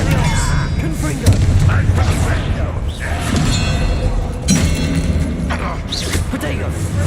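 Spell combat in Hogwarts Legacy, with a Confringo explosion spell among repeated booming blasts and thuds over busy battle noise, loud and close, while voices shout throughout.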